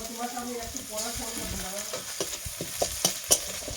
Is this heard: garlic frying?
yes